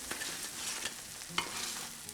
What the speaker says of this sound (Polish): Pamiętajcie, żeby smażyć je na nie za dużym ogniu, żeby zdążyły sobie dojść w środku.